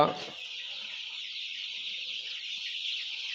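A dense, continuous chorus of high-pitched chick peeping on a poultry farm, steady and moderately near, after a brief bump at the start.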